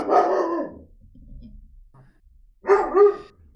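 Two bursts of close, loud puppy barking indoors, a cluster of yaps at the start and another pair near the end, separated by a quiet gap with faint rustling.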